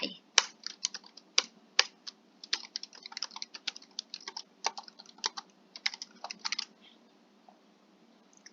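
Keys clatter on a computer keyboard as a meeting title is typed into a Webex scheduling form, a quick irregular burst of close, crisp clicks that trails off into near silence.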